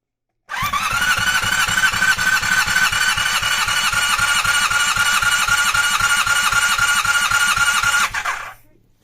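A Honda CB 250 motorcycle engine, old and worn, cranks over on the starter during a compression test, a rapid, even chugging with a whining starter tone that runs for about eight seconds, then cuts off.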